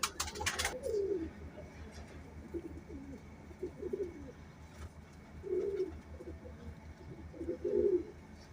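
A female pigeon cooing nearby in a quiet setting, giving several soft, low, throaty coos in short bursts spaced a few seconds apart, after a brief noisy handling sound at the start.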